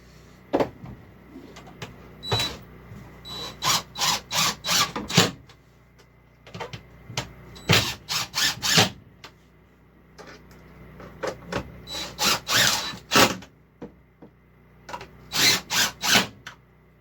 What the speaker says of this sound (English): So now I'm just going to tighten these down, which attaches this to the actual base of this.